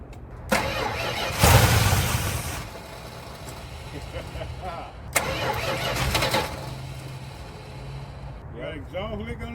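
A 1973 Chrysler 400 V8 pulled from a junkyard cranks and fires twice, catching into a rough, slightly loud idle, with people talking between the starts.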